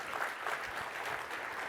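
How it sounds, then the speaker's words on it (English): A studio audience applauds a guest from Zeta Global, a short, steady burst of many hands clapping with no voices over it. "Please give him a round of applause for joining us."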